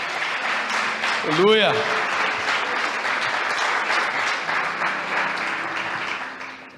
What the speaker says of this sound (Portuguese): Então dê um aplauso a Jesus Cristo aí